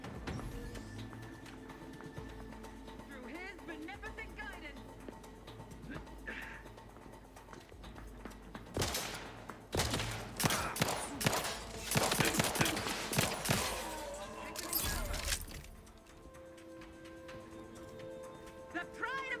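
Bursts of rapid gunfire and explosive blasts from a space adventure video game, sparse at first and then building into a dense, loud volley before easing off under game music and effects.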